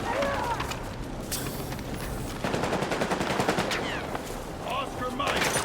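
Machine gun fire rattles in the Battlefield 6 video game during a night raid, with sustained rapid bursts up close, mixed with other gunfire and shouted voices.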